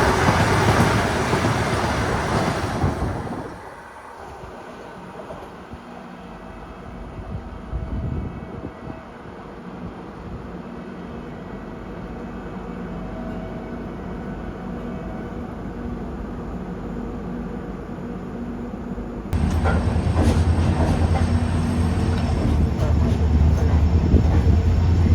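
Wainganga Superfast Express train running on rails, heard from inside as a steady rumbling roar with a high whine, easing briefly before a louder, harsher stretch of rattling wheels near the end.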